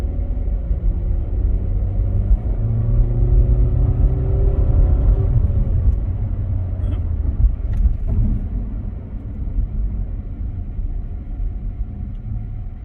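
A Buick car accelerating on the road, a steady loud engine rumble with rising drone and road and wind noise throughout, heard from inside the cabin.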